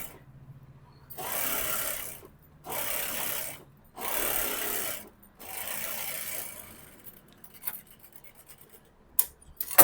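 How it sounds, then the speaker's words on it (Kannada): Sewing machine running an edge stitch along straight-cut pants, three steady motor bursts of about a second each with short pauses, followed by quieter handling noises of fabric and small clicks. "ಈಗ ಇಲ್ಲಿ ಎಡ್ಜ್ ಸ್ಟಿಚ್ ಹಾಕೊಳ್ತಾ ಇದ್ದೀನಿ."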